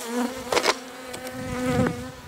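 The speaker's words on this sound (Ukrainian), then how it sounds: "Бджоли дуже-дуже стурбовані." Disturbed bees in a failing clay hive buzz in an agitated, wavering drone, the hum rising and dipping with a few louder swells as insects move about close by.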